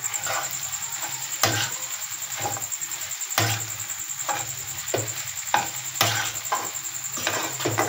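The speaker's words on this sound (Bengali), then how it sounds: "মশলাটা এভাবে নেড়ে চেড়ে মিশিয়ে নিলাম।" Spice mix being stirred into egg noodles in a pan, with repeated scraping strokes and a steady sizzle running underneath, close and fairly loud.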